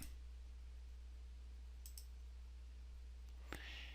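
Two quick mouse clicks while applying a background to all slides in PowerPoint, faint and close over a quiet low hum. A sharper click follows a moment later.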